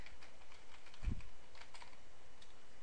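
A password is typed on a computer keyboard at an Ubuntu authentication prompt: soft, scattered keystrokes at low volume, with one slightly heavier key thump in the middle.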